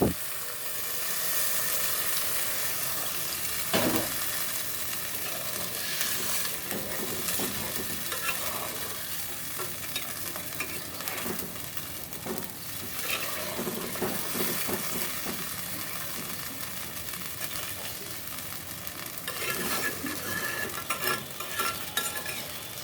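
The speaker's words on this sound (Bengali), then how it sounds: "আমি এখন একটু জল দিয়ে দিব" Fish simmering in a clay pot after water is poured into the oiled, garlic-and-onion masala, giving a steady close sizzle with bubbling and scraping stirs throughout, no talk.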